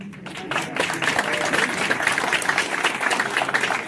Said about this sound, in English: We can all clap now.